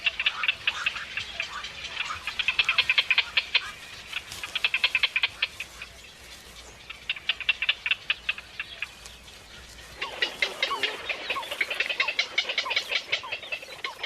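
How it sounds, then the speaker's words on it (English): Young night herons at the nest calling while being fed: bursts of rapid, raspy, ticking chatter that come and go in waves over several seconds, close and fairly loud, with no talking. "Watching young night herons being fed adds a new dimension to the phrase,"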